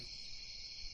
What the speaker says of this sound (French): Vos gueules, les grillons.